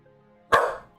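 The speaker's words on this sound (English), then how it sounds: "What are you barking at?" A single sharp dog bark rings out close and loud, cutting in after a near-silent moment and decaying quickly, with no speech.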